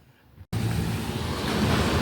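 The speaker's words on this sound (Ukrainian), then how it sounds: "О, вітер дуже сильний." Strong wind blows outdoors on a snowy day, bursting in after a brief quiet moment as a loud, roaring rush that buffets the microphone steadily to the end.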